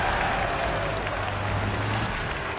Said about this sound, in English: Cheers from the crowd as there's still time